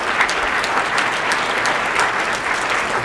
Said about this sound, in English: give him a round of applause over here